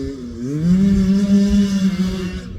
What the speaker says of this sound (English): It's not the cleanest running bike,